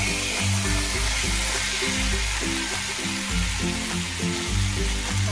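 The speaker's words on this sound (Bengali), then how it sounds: "আলুগুলোই আগে দিয়ে দিলাম" Potatoes go into a pan of frying chicken, producing a continuous close sizzle with repeated soft thuds and stirring bumps throughout, with no talking.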